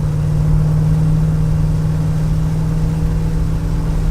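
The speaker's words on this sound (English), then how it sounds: "This is your typical American car. Big, bulky, and noisy." A big, noisy classic American Chevrolet car engine drones steadily and loudly at close range with no talking.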